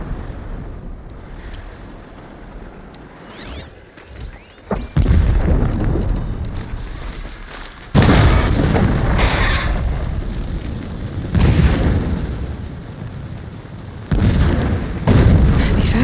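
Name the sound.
distant explosions in the video game Horizon Zero Dawn Remastered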